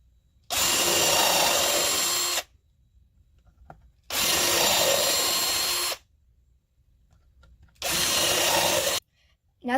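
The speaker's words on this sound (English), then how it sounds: "we're going to start pre-drilling this one" A power drill whirs into birdhouse wood, pre-drilling, in three bursts of about two seconds each, separated by short silences, close and loud.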